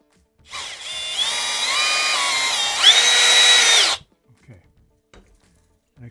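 A power drill drives Phillips head screws while mounting a house light fixture, its motor whining steadily for about three seconds, briefly rising in pitch, then stopping abruptly, followed by a few faint handling taps, close and loud.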